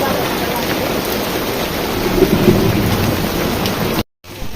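Heavy rain pours outdoors at Sonargaon Rajbari in Bangladesh, a loud continuous hiss with rumbling thunder underneath, cut off briefly near the end.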